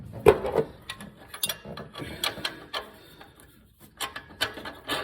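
A long bolt goes onto the alternator of a 1967 Ford Mustang with a 289 engine, heard as close, irregular metallic clicks, ratcheting and scraping taps in short bursts with brief pauses.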